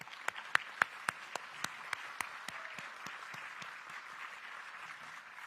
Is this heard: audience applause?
yes